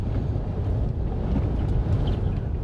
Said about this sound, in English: probably getting sustained 30 mile an hour wind here. Gust 40.